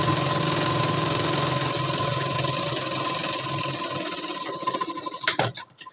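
A sewing machine stitches a padded prince-cut blouse, running in a fast, steady whir close by, then slowing into a few uneven bursts and stopping.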